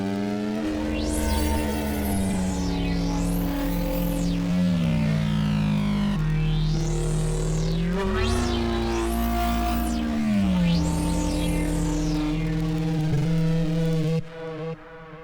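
A Serum MPE synth patch produces a sci-fi growling explosion sound: a dense, buzzy tone with sweeping, wobbling pitch bends that rise and fall in waves for about fourteen seconds, then cuts off abruptly.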